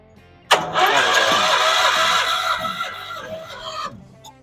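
The engine of an old Dodge shop truck cranks with a sudden onset, then a steady loud churning of repeated starter turns that fades slightly toward the end without catching, heard up close.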